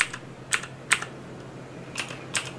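Typing on a Corsair K70 LUX RGB mechanical keyboard with blue switches: a handful of sharp, clicky keystrokes in small irregular clusters, close and crisp, with no voices.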